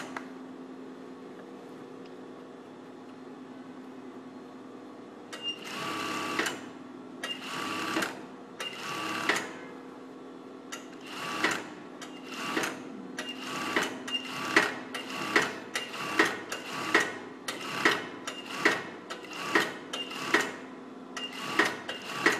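Sewing machine stitching a narrow 1/4 inch folded hem on a blouse, a quiet motor hum at first, then short rhythmic bursts of needle clatter that grow steadier and more regular, close up.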